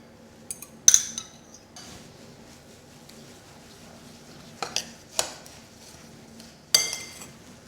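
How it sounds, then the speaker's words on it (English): A spoon mixing coconut, sugar and whisked egg in a bowl, heard as a few separate bursts of clinking and scraping against the bowl with quiet pauses between. "I'll just lightly whisk these 2 eggs and we mix our coconut and sugar together"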